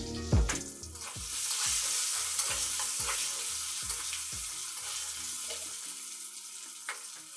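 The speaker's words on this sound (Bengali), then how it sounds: "আমার আলুগুলো ভাজা হয়ে গেছে" Potatoes seasoned with salt and turmeric fry in oil, a continuous sizzle punctuated by a regular series of scraping, knocking stirs, the stirring stopping near the end while the frying carries on.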